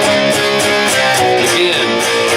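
Guitar plays the short chromatic walk-down riff from a song, a few clear plucked notes stepping downward, close and alone.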